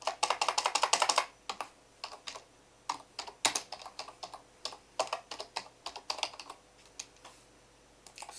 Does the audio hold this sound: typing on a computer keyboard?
yes